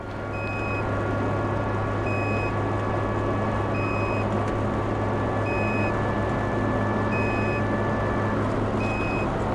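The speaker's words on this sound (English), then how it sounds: "a safety beep that plays constantly anytime you go over 100 kilometers an hour" A car's safety chime beeps in a steady repeating pattern, short high tones spaced under a second apart, above the constant road and engine drone of highway driving past 100 km/h.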